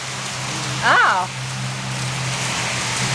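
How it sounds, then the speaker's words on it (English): Heavy rain pours outside, a steady broadband hiss that runs through the whole moment, with a brief spoken exclamation over it. "It's pouring though. Guess what, guys? It's raining outside."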